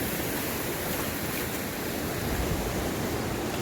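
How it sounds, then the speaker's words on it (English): River water flowing below the Lake Isabella dam, a steady broadband rush with no breaks, moderately loud and continuous, heard at night near a campsite. "We're listening to the flow of the water"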